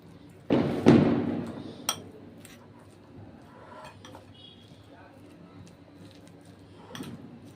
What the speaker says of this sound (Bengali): মোচার আলুটাকে একটু ম্যাশ করে নেব একটা কাটা চামচ দিয়ে